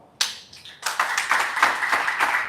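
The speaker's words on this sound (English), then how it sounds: "Can you clap for her?" Brief round of audience applause at a live wellness event, a short burst of scattered hand claps from a small group, close and fairly loud.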